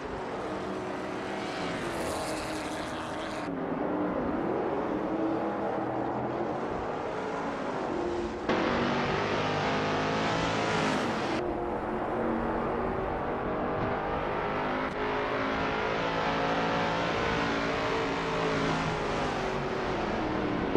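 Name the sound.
race cars in a racing video game with bot drivers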